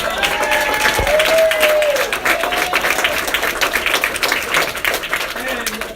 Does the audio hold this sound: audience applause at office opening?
yes